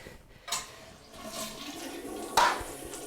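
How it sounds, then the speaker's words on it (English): A toilet tank drains as the flush handle is held down with the water supply shut off: two sharp rushing gurgles of water, one early and one louder near the end, separated by a softer swirling flow, close and clear. "We're going to let all the water drain out of the tank, which means you want to hold the handle down the entire time."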